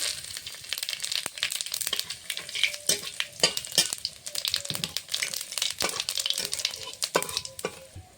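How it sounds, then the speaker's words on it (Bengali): Bay leaf, dried red chilli and whole cumin sizzle in mustard oil left over from frying fish, a close, continuous crackling fry broken by scraping and stirring clatters, with no talking. "মাছ ভাজার তেলে সর্ষের তেল দিয়ে দিয়েছি কিছুটা ফোড়নে দেবো তেজপাতা শুকনো লঙ্কা গোটা জিরে"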